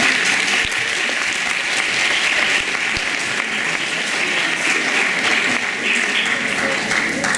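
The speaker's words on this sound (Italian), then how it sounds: "L'applauso non è obbligatorio." After a presentation on a university's philosophy and social work training area, a roomful of listeners gives loud, sustained applause. The clapping stays even and dense throughout, with no pause.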